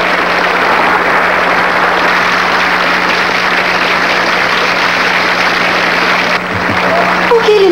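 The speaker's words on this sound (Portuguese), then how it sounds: "Vamos reservar os aplausos para uma jovem muito, muito especial que tornou isso possível." Audience applause for a young woman being introduced on stage, a dense steady wash of clapping that fills the whole stretch, loud and close, thinning briefly near the end.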